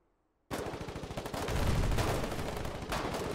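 Sustained machine gun fire in the video game Foxhole, a loud, dense stream of rapid shots that starts abruptly and continues without pause, with heavier booms mixed in.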